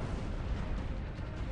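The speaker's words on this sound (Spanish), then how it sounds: "La explosión abre un agujero de 3 metros e inutiliza la plataforma del elevador." A bomb explosion on the aircraft carrier USS Enterprise, heard as a dense, sustained, loud low rumble with no separate blasts and no voices.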